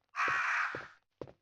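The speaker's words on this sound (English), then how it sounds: "I heard the crows" Crows caw in Resident Evil Director's Cut on PS1, one long harsh caw followed by a short clipped one after a brief gap, clear against silence.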